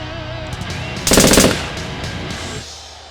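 Rapid machine gun burst used as a sound effect for a Kill Team tabletop wargame shot, a loud rattling volley of about half a second standing out over a steady background bed, then fading back.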